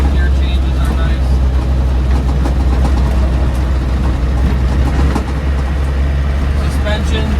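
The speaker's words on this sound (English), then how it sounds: "I'm going to downshift into third gear. No grinding at all." Land Rover Defender 90 300Tdi diesel driving on the road, a steady low engine drone and road rumble filling the clip with a brief dip near the end as it shifts down into third gear.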